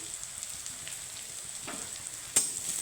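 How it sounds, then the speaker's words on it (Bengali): Chopped garlic sizzling with onions already fried in a pan, a steady soft crackling hiss with a sharper stir-like clatter near the end and no talking. "পেঁয়াজটাকে ভাজা হয়ে গেছে যা এখন আমি দিয়ে দিব কিছুটা রসুন কুচি"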